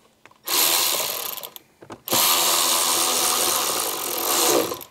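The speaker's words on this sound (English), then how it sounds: "I want to go ahead and put our screws in the bottom of it" A power drill drives screws into the lower edge of a Jeep Wrangler JK dash panel during a radio install, with two close, loud whirring bursts: a short one, a pause, then a longer steady run.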